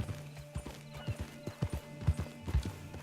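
Horse hooves clip-clop in a steady, rhythmic gait in the Red Dead Redemption 2 Online game, with even, moderately soft hoofbeats and no talk over them.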